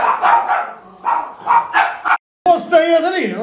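A dog barks in a loud, rapid run of close yips and barks indoors, a brief gap, then a higher whining, yelping bark.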